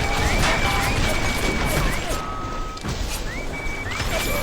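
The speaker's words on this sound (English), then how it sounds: "to be pelted by loud, annoying robots who make beeping noises and shoot a really loud gun" Bioshock security robots emitting steady, repeated high beeps while loud gunfire and crashing clatter pound continuously beneath them, dense and harsh throughout.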